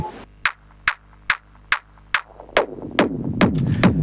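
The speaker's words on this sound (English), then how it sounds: "you can hear this little ringing noise going on" A high-passed electronic kick drum hits in a steady, evenly spaced pulse, each hit trailing a thin metallic ringing erosion effect that builds into a denser, noisier wash toward the end.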